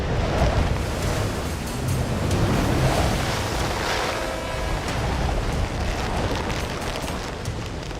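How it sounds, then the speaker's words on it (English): Howling storm wind and surging ocean waves with 110-knot gusts and 40-foot seas, a loud, continuous roar of wind and breaking surf that swells and eases throughout without any speech. "Winds now howl at 110 knots, and waves surge to 40 feet."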